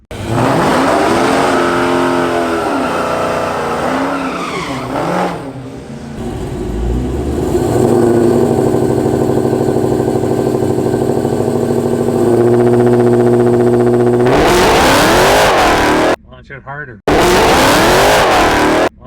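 A Whipple supercharged Dodge Hellcat at the track roars loudly through repeated revs and a hard launch, its engine pitch sweeping up with each gear. A sharp cut and restart come near the end, with voices talking over it.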